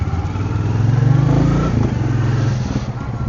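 A Royal Enfield motorcycle is ridden with its engine's low, thumping drone close by, rising slightly and then settling, mixed with wind rush.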